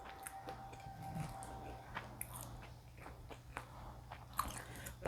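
Someone bites into a reheated bakwan vegetable fritter and chews it, making soft close crunches and wet mastication sounds at an irregular pace in a quiet room.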